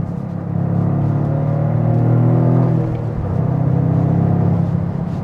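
A Toyota GR Corolla's turbocharged 3-cylinder engine hums steadily from inside the cabin while driving, a smooth low rumble with a slight swell around the middle, then easing back, with no talking.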